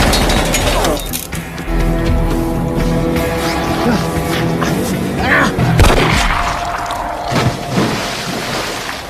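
Gunshot in a tense gangster film scene, a sharp boom cracking out amid loud layered dramatic score and effects, with a few other impacts around it.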